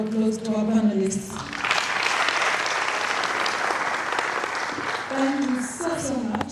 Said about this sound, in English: I would say a big round of applause to our panelists.